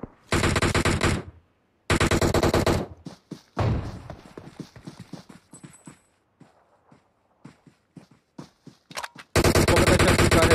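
Video game gunfire comes in long, loud automatic bursts separated by silence, with scattered single shots and clicks in the middle stretch and a final sustained burst at the end.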